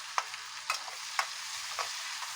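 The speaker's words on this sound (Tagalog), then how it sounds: "Tapos sibuyas." Onions and garlic sautéing in a pan for escabeche, a steady bright sizzle punctuated by about five quick scrapes of the spoon as they are stirred, close and clear with no voices.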